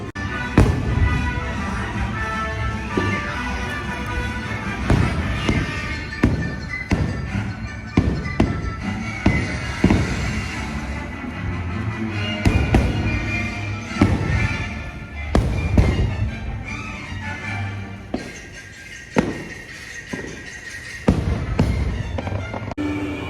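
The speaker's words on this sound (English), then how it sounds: "It's the fireworks going off." Fireworks go off at a theme park's Halloween horror nights event, a continuous barrage of booms and crackles with repeated sharp bursts throughout, loud and fairly near, with faint crowd sound beneath.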